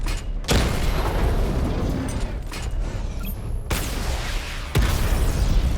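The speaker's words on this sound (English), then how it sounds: "to charge up weapon energy and activate missile barrage" Missile barrage explosions in the Batman Arkham Knight game: deep, continuous rumbling booms with several sharp, loud blasts cutting through.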